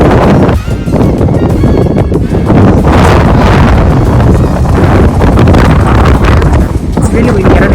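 Strong gusting wind buffets the microphone outdoors, a loud continuous roar with a voice faintly underneath.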